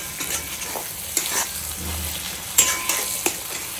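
Food fries in a pan while being stirred, giving a steady close sizzle with a few louder scrapes and knocks of the spoon. No voices.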